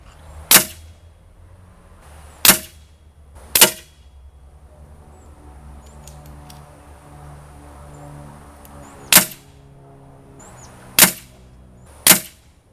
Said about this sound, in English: we are only doing 6 rounds per pellet into the target